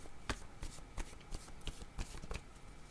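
Tarot cards shuffled by hand in a quiet room, a steady run of crisp riffling slaps about three per second, close and soft, with no voice over them.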